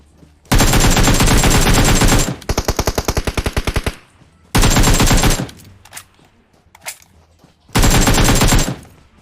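Loud bursts of automatic gunfire from PUBG Mobile, several long sustained volleys with a rapid rattling run of distinct shots between them and a few brief pops in the quieter gaps.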